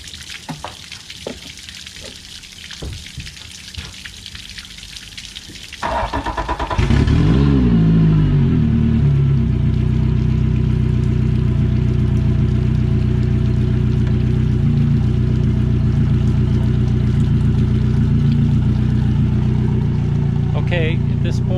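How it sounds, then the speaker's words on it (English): A Yamaha outboard motor cranks and catches after about six seconds of quieter background noise, then runs at a loud, steady idle close by, with water sounds, until the end. "then I'll start my motor up and begin the warming process."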